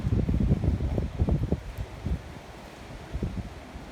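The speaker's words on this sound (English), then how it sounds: "If you hear the breezes and things, that's what it is." Morning breezes gust along an open roadside, buffeting the microphone and rustling nearby leaves. The gusts come in uneven bursts that are loud at first, then ease to a softer, steady hiss.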